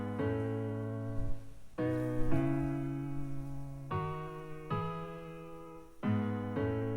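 Guitar-like synth chords from the Hit Up plugin play alone in a beat breakdown, with sustained strummed-sounding chords changing every second or so and no voices over them.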